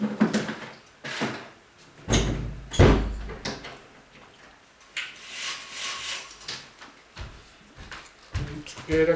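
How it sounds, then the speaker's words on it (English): A bedroom door pulled shut nearby, with wooden bumps and a solid thud among some rustling and handling noise, no talking. "Let's close my door."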